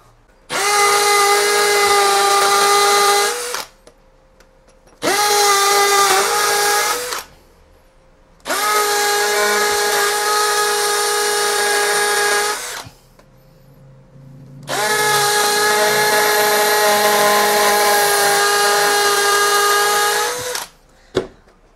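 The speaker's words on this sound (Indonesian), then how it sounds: "Langsung kita hajar GSB 185 mode hammer speed 2." A Bosch GSB 185 hammer drill in hammer mode at speed 2 whines loudly in four separate bursts of several seconds each, split by short pauses, with no talking.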